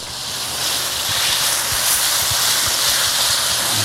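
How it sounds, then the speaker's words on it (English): Salmon curry with soy, sugar and lime juice bubbling steadily in a pan over a wood fire, a continuous dense hiss and sizzle with faint low pops, close and fairly loud, no talk. "It's bubbling away, lovely."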